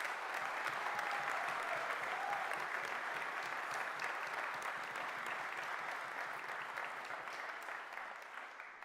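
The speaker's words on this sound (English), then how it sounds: "Everyone give them a round of applause again." Sustained applause from a graduation audience at a Fife College ceremony, a dense steady wash of many hands clapping throughout, fading slightly toward the end.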